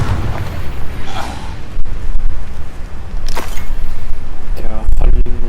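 Confringo blasting spell explosions in a Hogwarts Legacy duel, loud booming bursts with sharp cracks repeating several times, mixed with other spell effects and game sounds.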